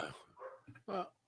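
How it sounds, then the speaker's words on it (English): A pet dog barks a few short, sharp yips at a distance, quiet and intermittent, separated by brief pauses. "you can hear my dog barking"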